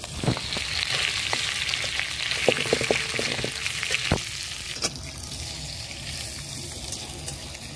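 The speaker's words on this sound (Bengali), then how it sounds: "আর দিয়ে দেবো আলুগুলো।" Potatoes frying in a pan with asafoetida and ginger-chilli paste, a steady crackling sizzle with occasional sharp pops and stirring scrapes, close and continuous without talk.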